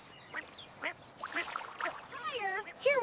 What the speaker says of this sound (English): I feed the ducks.